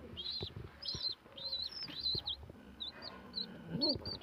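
Birds call in high, repeated chirps, with scuffling and fluttering noises underneath as a pigeon pecks at a chick; the calls recur irregularly at close range.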